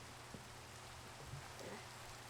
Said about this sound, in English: Well, back out into the rain I go.